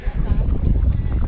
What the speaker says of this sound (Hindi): यहाँ पर बहुत तेज़ हवा चल रही है